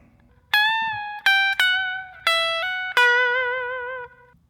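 An electric guitar picks a riff as five clear, ringing single notes in a short, unhurried phrase, each sustaining and decaying before the next, played alone.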